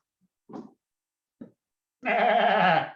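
An actor in a family improv show imitates a billy goat with one long, wavering, nasal bleat lasting nearly a second, following two brief quiet vocal sounds.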